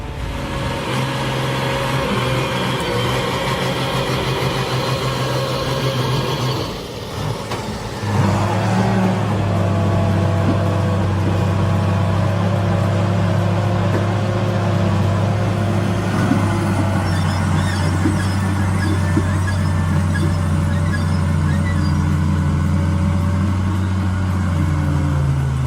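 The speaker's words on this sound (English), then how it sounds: "That Komatsu wheel loader is a beast." A Komatsu wheel loader hauling timber out of rough forest ground, its engine droning loud and steady, dipping briefly before revving up and holding a heavy, constant rumble.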